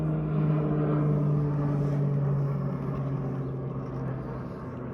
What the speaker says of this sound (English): Got a plane above.